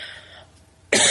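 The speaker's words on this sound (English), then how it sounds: "There's that cough." A single sharp cough bursts in loudly and close after a brief quiet stretch.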